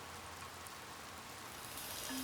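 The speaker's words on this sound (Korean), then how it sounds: "잔잔한 빗소리와 함께" Gentle rain falls as a faint, even hiss of fine drops, steady and soft throughout with no voices.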